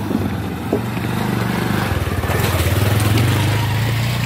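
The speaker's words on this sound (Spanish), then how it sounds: "Miren, ahí va la moto." A motorcycle engine, just started after a struggle, runs close by and loud, its low throbbing idle rising into revs toward the end.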